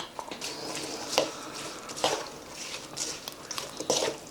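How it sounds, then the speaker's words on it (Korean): Chives and onion are mixed into a cucumber kimchi filling in a bowl, producing soft wet squelching and light clattering strokes in a loose repeated rhythm, close and fairly quiet. "부추랑 양파를 넣고 잘 섞어주세요."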